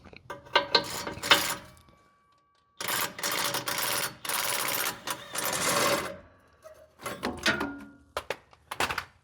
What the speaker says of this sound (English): then we're going to loosen those two bolts right there, 13 mil